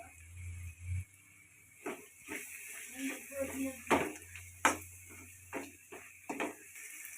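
Spoon scraping and clinking through vangi bath gojju in a pan as vangi bath powder is mixed in, with intermittent stirring knocks and soft scrapes over a low background hum, spaced irregularly across the clip.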